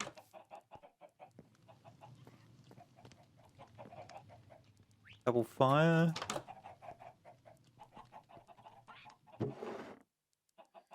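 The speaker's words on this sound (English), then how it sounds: "Got a clutch of chickens." Chickens in the Minecraft video game cluck in short, quiet bursts throughout, with a louder burst of squawking near the middle, all under steady conversational talk.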